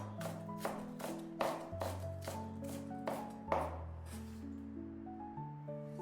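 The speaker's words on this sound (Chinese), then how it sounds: "一小把洗净的香葱，把香葱直接切成葱花" A knife chops washed green onions into small pieces on a board, about eight crisp evenly spaced strokes close up, alone over quiet background music.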